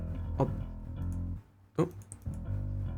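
Bass guitar heard through an 18-inch Trace Elliot speaker alone, in a heavy metal mix, giving a deep, rounded low-end line of sustained notes with a couple of sharp attacks and a brief drop in level midway.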